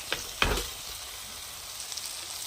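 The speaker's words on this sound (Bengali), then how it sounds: "এবার এগুলো দিয়ে আরও কিছুক্ষণ কষিয়ে নেব।" Paneer, capsicum and onion sautéing in a kadai with spice masala, two sharp scraping stirs near the start over a constant soft sizzle that carries on alone.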